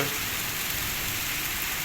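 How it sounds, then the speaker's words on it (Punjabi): Rain with hail pelting down in Bathinda district in the Malwa region of Punjab makes a steady, dense hiss of drops striking surfaces, even and unbroken throughout, with no voices. "ਅੱਜ بارش ਤੇ ਗੜੇ ਪੈ ਰਹੇ ਆ"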